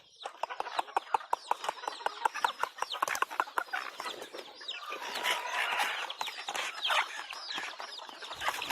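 A flock of chickens clucks busily nearby, with rapid pecking and scratching sounds throughout.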